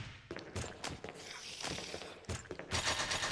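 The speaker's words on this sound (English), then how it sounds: "Shoot, Jill, shoot!" Rapid gunfire from the Resident Evil video game, a burst of several sharp shots and thuds from Jill's weapon in a tense chase, fairly loud and dense with no talk over it.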